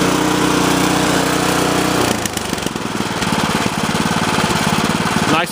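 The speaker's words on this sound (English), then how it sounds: "Nice and idle, good idle speed." A Cub Cadet RT65 rototiller's small engine runs loud and close with a steady chugging throb, then drops back to a smooth, even idle that carries on to the end.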